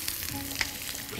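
Onions sizzle in olive oil in a frying pan, a brief, steady crackling hiss with small pops and spits, fairly close and with no talking.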